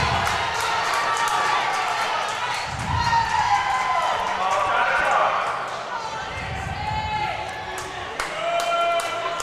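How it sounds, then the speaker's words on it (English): An indoor cricket crowd cheers and shouts in a stadium, a loud sustained roar with claps and thuds, while a commentator talks over it. "Crowd is going wild."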